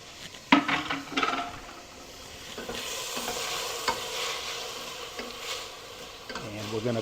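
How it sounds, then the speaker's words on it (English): Tomatoes and garlic stirred and frying in a pan for a cheesy zucchini dish, a steady sizzle running throughout with scraping stir strokes and a few clinks of the utensil against the pan, close and moderately loud. "We're going to go ahead and work in the tomatoes."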